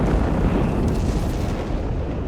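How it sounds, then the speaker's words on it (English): Artillery strike explosions in Company of Heroes 3 pound a bridge area, rendered as a loud, continuous rumbling roar of overlapping blasts that stays dense and heavy throughout, with no talk over it. "Massive artillery strike, just leveling the left side there of the bridge"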